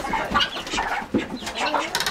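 Chickens at a chicken sale cluck and squawk in busy overlapping bursts, close and fairly loud, with a sharper burst near the end and no clear talk.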